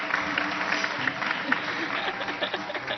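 Studio audience applause on a Turkish TV talk show welcoming the host for a live henna night ceremony, steady dense clapping throughout with faint cheering and talk mixed in.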